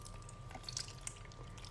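Whipped cream thinned with water, salt and a little liquid being poured over mushrooms, a soft, faint splashing trickle with a few small drips under a steady low hum.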